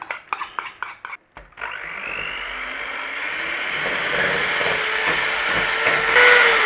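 An electric mixer beats coffee cocoa mix into a Baileys coffee cake batter, a few light clicks first, then a steady loud whirring drone that holds and swells slightly to the end.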